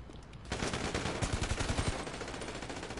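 Machine gun fire in GTA Online, a rapid, steady stream of loud shots that starts abruptly after a short quiet moment and keeps going to the end.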